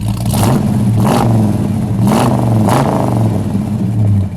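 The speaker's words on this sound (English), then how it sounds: "Go ahead, Dale, give it a rev." A 1973 AMC Javelin's 401 V8 with a four-speed revs up loud and close in several sharp blips, dropping back to a rumbling idle between throttle bursts.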